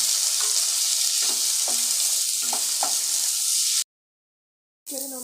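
Sliced onion and tomato frying in a pan, a dense, loud, continuous sizzle with a few soft stirring knocks, close up; it cuts to a second of silence before the frying resumes briefly.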